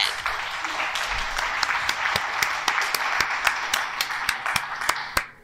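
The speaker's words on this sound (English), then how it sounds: "Let's all give it a big applause for the game so far" Applause during a Resident Evil Village gameplay session, a steady run of distinct, fairly close claps over a softer background wash, lasting about five seconds.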